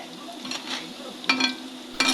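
Onion fritters crackle and sizzle in hot oil, with louder bursts of bubbling and a few stirring scrapes; no one speaks.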